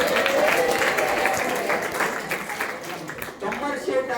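A crowd at a motivational study-skills talk breaks into a round of applause, a dense wash of clapping that tapers slightly, with voices mixed in underneath.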